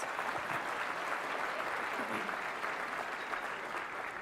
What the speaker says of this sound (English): let's give yourselves a little round of applause